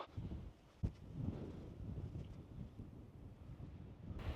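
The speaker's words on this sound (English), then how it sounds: "It's a bit windy up here." Coastal wind at Flamborough Head buffets the microphone in low, gusty rumbles, with one sharp bump early on and steady blustery noise throughout.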